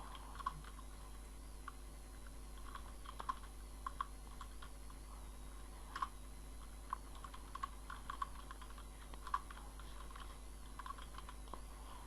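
Company slogan being typed on a computer keyboard in a quiet room, a steady run of light, quick key clicks with occasional slightly louder taps, close and alone without talk.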